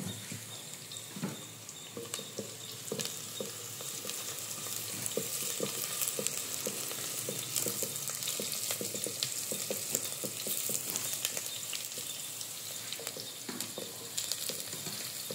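Small onions frying in hot oil for keerai kuzhambu, a quiet continuous crackling sizzle with soft scattered pops and occasional stirring, steady throughout with no talk.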